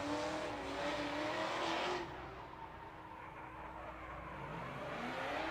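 A supercharged Ford Mustang drifts in a Formula DRIFT night round in Las Vegas, its engine roaring loud and strained for two seconds before dropping to a lower, distant drone with faint tire noise.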